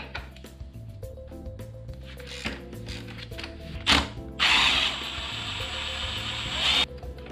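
A hand ratchet clicks in quick rapid bursts while loosening a Torx T50 bolt on the swingarm of a BMW R1200 GS motorcycle, followed by a sustained metallic whirring spin, close and fairly quiet.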